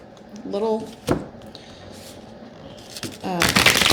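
A few crisp riffling and flicking bursts of a large tarot deck's stiff cards being shuffled by hand, separated by quiet stretches, close to the mic.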